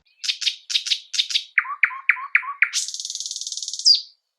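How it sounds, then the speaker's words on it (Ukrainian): A common nightingale sings alone in clear, close phrases: a run of repeated chirps, a lower series of rapid notes, then a fast buzzing trill ending in a rising whistle. "І насправді дуже гарно співає Соловей."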